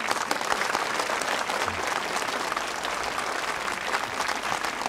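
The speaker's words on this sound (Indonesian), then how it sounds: "Tepuk tangan." Clapping from a gathered village group, a dense, fairly close patter of many hands that stays at an even level throughout, with no talking over it.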